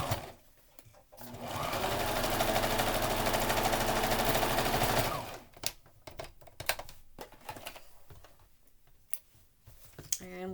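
Domestic sewing machine stitching a 3/8 inch seam on a fabric mask cover, running in a loud continuous whirring burst for about three seconds, then scattered clicks and fabric handling, with a voice speaking over the later part.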